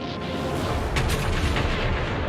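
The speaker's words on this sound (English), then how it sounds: "it was hit by a torpedo" A steamship struck by a torpedo at night in a wartime Atlantic convoy, a heavy continuous rumbling boom that fills the clip with loud low roar and no voices.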